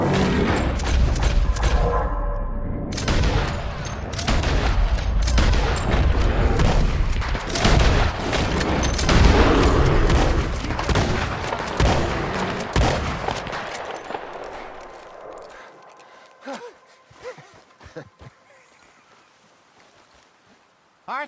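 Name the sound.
gunfire in the video game Red Dead Redemption 2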